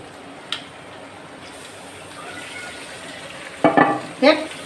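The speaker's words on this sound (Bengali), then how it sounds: "এখন আমি এর ভিতরে এই পাবদা মাছটা দিয়ে দেবো" Pabda fish going into a frying pan with mustard paste, a low steady frying hiss with a couple of louder sizzling bursts and clatters near the end, no talk.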